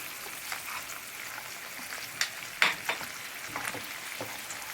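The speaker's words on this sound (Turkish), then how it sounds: "Güzelce salçamla da kıymamı yine buluşturup kavuruyorum." Ground beef and tomato paste fry in a pan for a baked béchamel pasta, giving a quiet, steady sizzle broken by a few sharp pops and scrapes of stirring.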